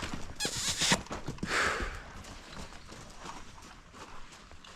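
A young colt's hooves clip-clop on the ground during its first saddling, several irregular steps near the start with faint scuffs and creaks afterward, fairly quiet throughout.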